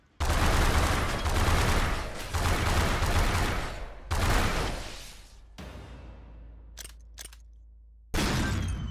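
Heavy gunfire from the top-down shooter game Synthetik 2: dense, loud bursts of rapid shots with short pauses, then a quieter stretch of scattered single reports before another loud burst at the end.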